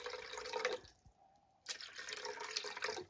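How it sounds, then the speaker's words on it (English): Prime drink being poured into a punch bowl that already holds bits of lime, a steady splashing liquid stream that stops briefly and then resumes, close and fairly loud. "So what we're gonna do is we're gonna add some prime first."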